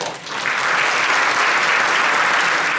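Theatre audience applauding a play's translator, a dense, steady wash of clapping that swells in within the first half second and holds loud and even throughout.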